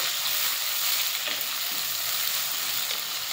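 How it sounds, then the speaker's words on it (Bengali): Chopped onions fry steadily in a hot pan for duck curry, a continuous close, even sizzle and crackle that runs alone without pause. "পেঁয়াজটা দিয়ে দিলাম, এখন আমি পেঁয়াজটা লাল করবো।"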